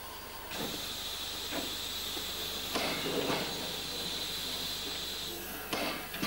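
A class 44 steam locomotive stands stopped and hisses steam steadily, with a few louder bursts of venting over a low background rumble.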